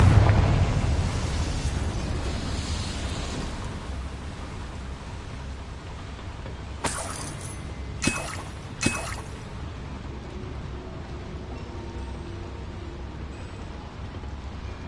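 A Confringo blasting spell explodes in a video game, with a burst of noise at the start, then three sharp cracking bursts in a row over a steady rumbling background.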